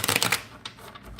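Tarot cards being shuffled by hand, a brief riffling burst of papery flicks that fades after a moment, close and alone with no talking.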